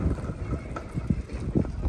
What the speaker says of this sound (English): that wind is going to be bad over the winch. You can still hear it.